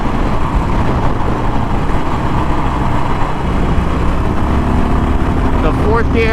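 A 2021 Harley-Davidson Iron Sportster 1200 engine pulls hard in fifth gear at wide open throttle, giving a loud, steady roar mixed with heavy wind rush and a faint rising tone at the end.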